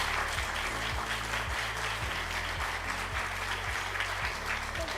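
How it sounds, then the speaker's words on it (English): An audience at the World Knowledge Forum breaks into sustained applause, a dense, continuous clatter of many hands over a faint low hum of the hall's sound system, steady for several seconds. "let's give our two gentlemen another big round of applause."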